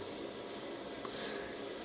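An airbrush sprays paint in a quick test before portrait work, a faint steady airy hiss with slight rubbing texture, no voices.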